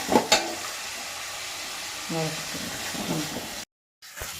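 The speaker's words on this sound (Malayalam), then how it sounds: "ഇത് നന്നായിട്ടൊന്ന് നമ്മൾ വതക്കിയെടുക്കണം" Onions sautéing in a hot pan for a Kerala-style fish curry give a steady sizzling hiss with a few scraping stirs, then a sudden brief dropout before the frying resumes; a voice speaks briefly over it.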